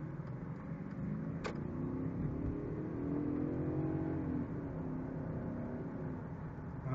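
A BMW 735 V8 in sport mode accelerates from inside the cabin, its engine droning low and climbing steadily in pitch as it pulls, with a constant road rumble and one brief high chirp.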